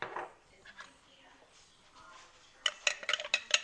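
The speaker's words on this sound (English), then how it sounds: "Give it a stir." A spoon stirring turmeric into pickling brine in a pot, faint at first and then a quick run of bright metallic clinks and scrapes toward the end, with a voice talking softly at the start.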